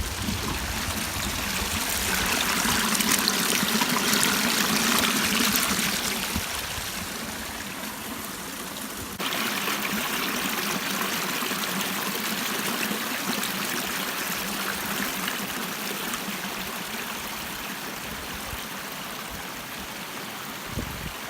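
A stream in a Greenland forest valley trickling and rushing steadily, a close, continuous wash of running water with a slight shift partway through, no voices.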